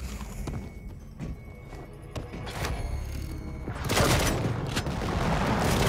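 Shotgun blasts and other gunfire in the arena shooter Quake Champions: repeated heavy booming shots mixed with game noise, getting louder and denser toward the end, with no talk over them.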